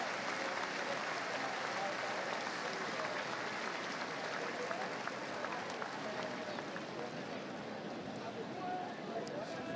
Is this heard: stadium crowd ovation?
yes